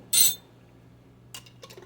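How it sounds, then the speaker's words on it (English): A spoon tips a tablespoon of dried sweet basil into a container for a herbed salt blend, making one short bright clink, followed by a few softer taps and rustles. "So I'm going to add the tablespoon of basil in there."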